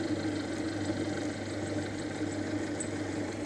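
Adapted engine turning slowly at about 400 rpm, a steady low hum with a constant mechanical drone and faint vibration, no talk over it.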